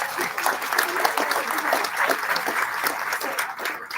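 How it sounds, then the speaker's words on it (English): Audience applause in a room after a thank-you for homemade cookies, a steady dense patter of many hands clapping throughout at fairly close range, with a little voice mixed in. "So let's give them a big round of applause."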